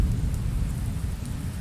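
Rain in the video game Golden Treasure: The Great Green, a steady low rumbling downpour with a thunder-like roll underneath, constant throughout with no talking.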